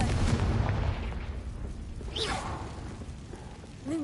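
In Hogwarts Legacy a Confringo fire spell sets off a rumbling, booming blast with a whooshing tail, followed by fainter whistling and rising chirps as it fades over several seconds.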